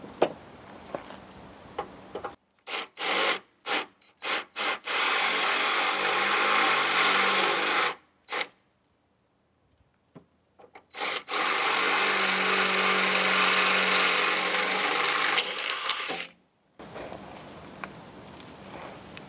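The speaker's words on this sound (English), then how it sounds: "we're fixing to go to drilling some holes in our plate" A power drill bores holes through a metal plate during a 1976 Ford F100 conversion and restoration, running in several short bursts and then two long sustained passes, close and loud, separated by brief pauses with no talk.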